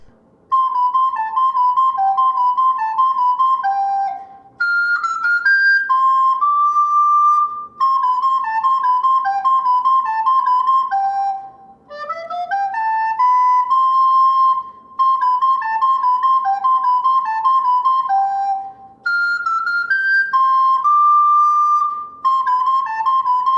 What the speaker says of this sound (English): Section A begins on a high C